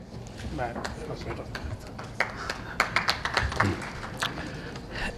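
At a road safety stakeholder conference, scattered applause greets a sponsor receiving recognition, sparse individual claps rising toward the middle under a speaking voice.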